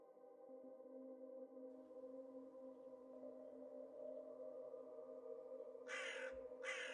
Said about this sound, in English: Ooh, a crow sound.